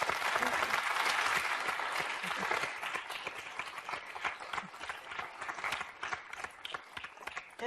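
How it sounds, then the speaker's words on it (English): Audience applause after a talk on leadership and team hierarchies, a loud burst of many people clapping that thins into scattered, distinct claps and then fades. "a round of applause"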